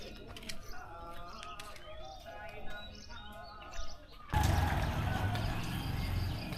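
Birds sing on an early morning in a village in Chiang Mai, with close chirps, tweets and soft cooing repeating for about four seconds before a sudden loud, steady wash of noise covers them.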